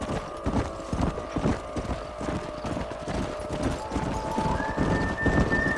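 Horse hooves clip-clopping in the video game Red Dead Redemption, a steady rhythmic trot of hoof beats with occasional faint tonal game sounds and a horse's snort, no talk.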